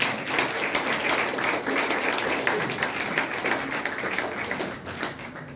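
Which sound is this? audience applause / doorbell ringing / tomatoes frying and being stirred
audience applause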